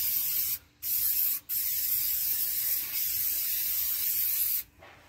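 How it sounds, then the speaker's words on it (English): Brake and parts cleaner sprayed onto a brake rotor during a rear brake job on a Dodge Journey, three loud hissing bursts separated by short pauses. "We just spray this down with some brake and parts cleaner."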